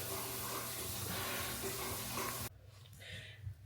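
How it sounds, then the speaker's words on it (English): Shower water runs steadily in a bathroom while hair is being washed, a dense broadband hiss that cuts off abruptly partway through, leaving a quieter room tone with faint splashes. "so let's wash this head"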